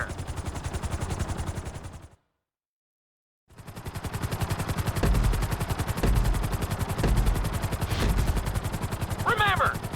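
Helicopter in the GTA 5 video game's flight school course, a loud, rapid rotor chop thumping steadily, cut by a brief silent gap before resuming, with occasional other game effects layered on top.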